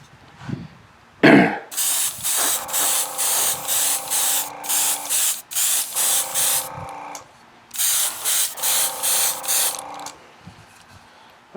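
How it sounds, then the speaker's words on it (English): An airbrush spraying paint onto a Jo-Han 1970 AMC Javelin Trans Am scale model kit, a loud close hiss in rapid on-off bursts with short gaps, a few longer pauses, and a cough near the start. "I'm not used to filming while I'm airbrushing."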